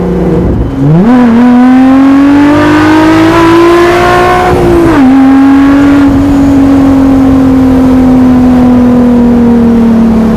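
A hand-built mid-engine VR6 go kart with widebody Renault body revs loudly and close, its engine note climbing, dipping briefly, then holding a steady high drone for the rest.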